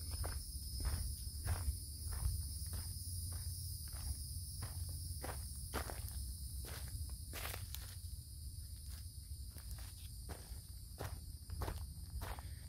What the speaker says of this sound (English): Bugs are out for sure.